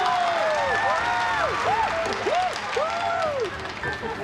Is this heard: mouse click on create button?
no